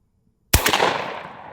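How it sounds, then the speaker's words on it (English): A single loud, close shotgun blast of number 8 birdshot fired at a turkey target from a very long-barrelled gun, cracking sharply after brief silence and then ringing out as a fading echo. "Let's take a shot at that turkey."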